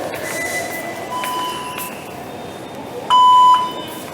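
A single clear electronic beep from a metro card reader at Dhaula Kuan Metro Station, short and bright, sounds near the end over a humming station background with faint tones and rumble.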